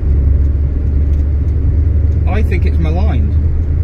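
An Austin Allegro cruises slowly along a Sunday country road with a steady low engine rumble and road noise throughout. Someone talks over it partway through.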